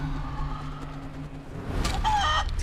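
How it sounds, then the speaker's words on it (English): A chicken clucks in Divinity: Original Sin II after a character is turned into a chicken by a spell, with a short burst of bird sounds rising over dense game background noise near the end. "I turn him into a chicken."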